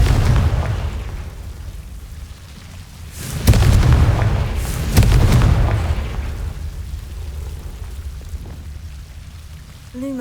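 Confringo spell explosions from the video game Hogwarts Legacy, heavy booming blasts with rumbling debris around the middle, settling into a softer rumble and crackle.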